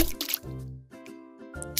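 Stones drop one after another into a water pot, giving soft liquid plops and drips, faint and close, with short pauses between them.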